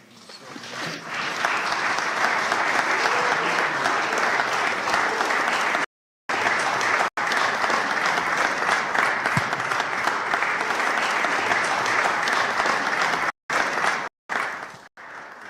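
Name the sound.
conference audience applause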